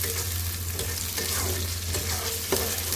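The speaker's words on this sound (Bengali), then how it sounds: "পেঁয়াজটা ভাজা হয়ে গেলে চিংড়ি মাছ দিয়ে এটার সাথে পেঁয়াজটা আরেকটু ভাজবো" Prawns fry with onion and garlic in a pan, an even, dense sizzle with soft stirring scrapes running throughout, close and loud, with no voices.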